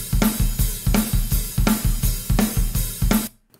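Drum kit recording with Pro Tools EQ3 boosts on kick and snare, snare brightened for snap: a steady groove of punchy kick and cracking snare hits with ringing cymbals, ending abruptly.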